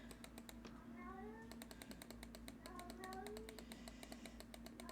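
A pet cat meows several times indoors, short rising cries standing out over a steady electrical hum and a dense patter of keyboard clicks, with a voice murmuring faintly in the background.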